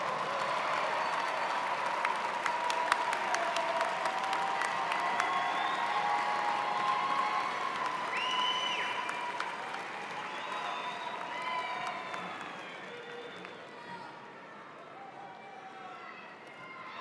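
Audience at an online graduate programs ceremony applauding graduates' families, a broad sustained wash of clapping from a large crowd that gradually thins and fades toward the end, with a voice speaking over it.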